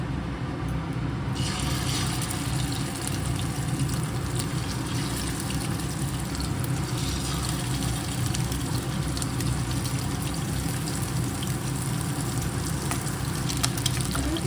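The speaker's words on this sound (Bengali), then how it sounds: "তেল গরম হয়ে গেছে, দিয়ে দেবো মাছগুলো।" Hilsa fish pieces fry lightly in hot oil for paturi, a steady dense sizzle that holds level throughout, close and continuous.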